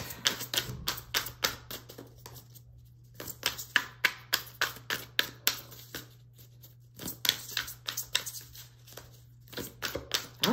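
Playing cards are shuffled repeatedly at close range, a rapid run of crisp flicks and riffles with brief pauses between rounds.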